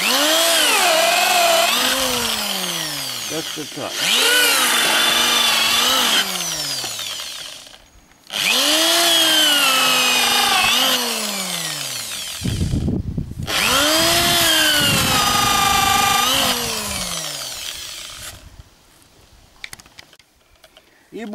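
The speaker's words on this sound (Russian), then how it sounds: "Ну и сверлим. Хороший прижим. Можно, конечно, на станке. Я дрелью." An electric drill whines through wood for decorative window trim in several long bursts, pitch rising and falling as it bites, with short pauses between and a brief spoken remark.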